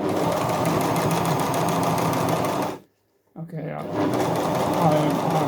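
A portable walking-foot zig-zag industrial sewing machine runs loudly and steadily up close, stops for about half a second, then starts stitching again at the same steady pace.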